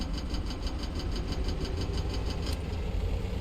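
Engines running steadily in the Stormworks video game as the starters are engaged, a continuous mid-pitched hum with a faint repeating tick, heard alone without talk.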